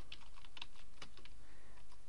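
Keys clatter on a computer keyboard in a quick, uneven burst of taps as a search term is typed, close and clear with no talking.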